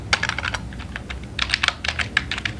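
Fast, uneven keystrokes on a computer keyboard as a PHP artisan make command is typed into a terminal, close and clear with no talking.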